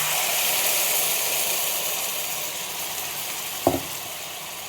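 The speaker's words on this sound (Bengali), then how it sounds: "দেখো মশলা দিয়ে তেল ছাড়তে আরম্ভ করেছে।" A prepared spice paste fries in hot oil for a tengra fish dish, giving a steady, fairly loud sizzle throughout with one sharp clatter near the end.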